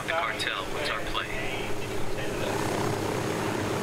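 A helicopter in Ghost Recon: Wildlands gameplay: a continuous engine and rotor drone under game chatter and effects, with people talking over it.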